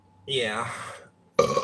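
A long, loud belch rumbles for about a second at close range, then a person starts talking.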